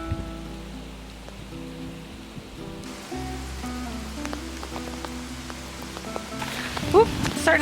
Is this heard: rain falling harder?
yes